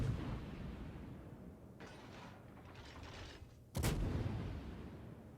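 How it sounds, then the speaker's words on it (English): Naval gunfire in the warship battle game Smolensk, a low rumbling barrage of distant shells with a sharp, loud impact burst near the four-second mark, followed by heavy sustained rumble. "Shells coming in from the Montana."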